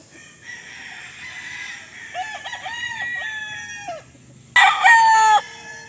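A white-legged Butcher bloodline gamefowl rooster crows nearby: one drawn-out crow, then a second louder, sharper one, with faint background noise and no talking.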